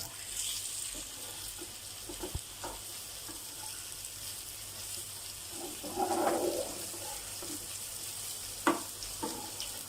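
Brinjal slices frying in a pan over a low gas flame, a steady soft sizzle throughout with occasional clinks and scrapes of turning the pieces.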